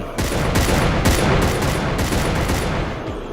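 A loud, dense volley of rifle and machine-gun fire as a line of soldiers opens fire on a zombie horde, with shots overlapping continuously for a few seconds without a break.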